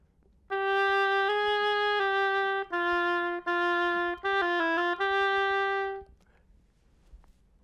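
An oboe plays a turn ornament slowly, several long sustained reedy tones then a quicker wavering figure, alone and close.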